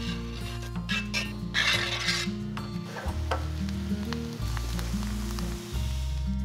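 Bánh xèo batter poured into a hot, deep nonstick pan and swirled around the surface, giving a steady sizzle under louder tonal background music throughout, with no voices.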